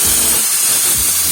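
A pressure cooker on the stove boiling rice on one side and leafy greens on the other, letting out a loud, continuous steam hiss with a sharp whistling edge.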